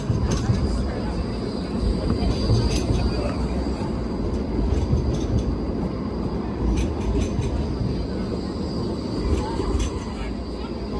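A loud, continuous low rumble of a passing tram fills a street scene in Ghent, Belgium, with faint clattering and distant voices mixed in.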